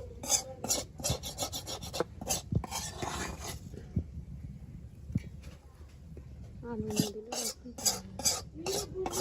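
A spatula scrapes fried bitter gourd out of a pan in rough, rasping strokes, coming in repeated bursts with a short pause midway. A voice talks faintly in the background.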